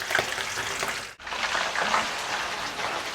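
Chicken pieces frying in hot oil in a pan, a loud, continuous crackling sizzle like heavy rain, with a momentary dip before it resumes just as strong.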